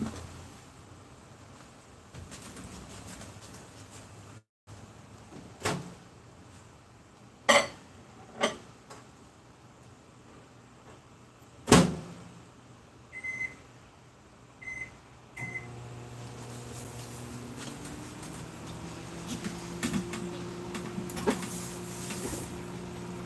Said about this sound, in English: I will go ahead and put this in my microwave for a few minutes.